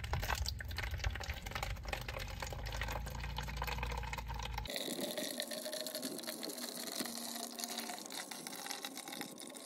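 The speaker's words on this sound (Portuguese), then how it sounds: "Água da torneira normal. Aqui, ó. Vamos encher a primeira garrafa." Tap water running into a plastic bottle, a steady broadband rush that changes character midway as the bottle fills, heard alone at moderate level.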